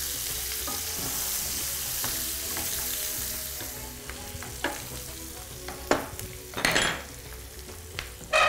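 Pork pieces sizzle and fry in a pan under a steady hiss, broken by sharp scrapes and clinks of a utensil stirring them, with louder clatters toward the end.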